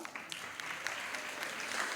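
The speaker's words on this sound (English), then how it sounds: "so another round of applause." An audience at a senior comedy show applauds a comedian, brisk clapping with individual hand claps standing out over a moderate, continuous patter.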